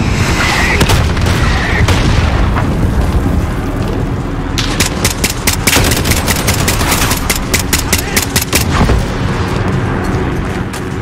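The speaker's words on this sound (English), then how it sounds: "Got mortars incoming!" Incoming enemy mortar fire in a video game, with repeated heavy booms and sharp bursts of gunfire landing in rapid, dense succession, loud and continuous over a rumbling battle background.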